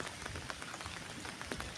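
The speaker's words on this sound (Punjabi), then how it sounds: "ਮੀਂਹ ਬਹੁਤ ਜ਼ਿਆਦਾ ਪੈਂਦਾ ਹੁਣ" Rain falls steadily, drops pattering and tapping on a hard surface close by, with no talking.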